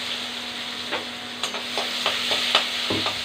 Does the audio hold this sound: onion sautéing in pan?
yes